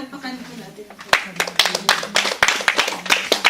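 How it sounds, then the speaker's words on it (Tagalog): A church congregation at a Filipino Mother's Day service claps together, starting with a few sharp claps and building into a loud, uneven round of applause after a voice trails off. "May pumalakpak, gising pa sila."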